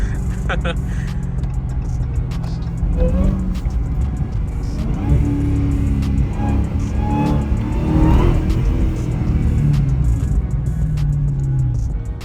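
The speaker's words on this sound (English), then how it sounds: "The supercharger is extra loud because I done got a hood on this." Dodge Magnum Hellcat with a supercharged engine driving along, its engine droning and surging through gear changes inside the cabin, with someone talking over it.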